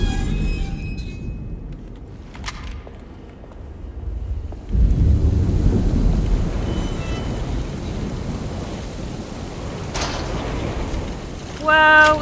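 Steady rain hiss in the video game Alone in the Dark, swelling louder with a low rumble partway through, a continuous wash of weather ambience with faint scattered game sounds over it.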